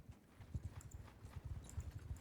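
A horse's hooves clip-clop steadily in Mount & Blade 2: Bannerlord with the Realm of Thrones mod, a quiet, even trotting rhythm of soft repeated thuds with no voices.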